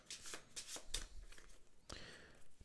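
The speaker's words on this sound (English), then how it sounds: "players shuffle the discard pile" Playing cards from a board game's discard pile being shuffled by hand, a rapid series of riffling flicks and soft slaps, close and fairly quiet.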